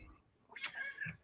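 A cat meows at a cat rescue, one clear, rising cry close by, with a faint low thump shortly after in an otherwise quiet room.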